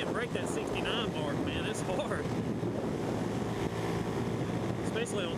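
Wind buffets the microphone while a person rides a scooter outdoors on a windy day, a constant rough rumble with voices talking over it.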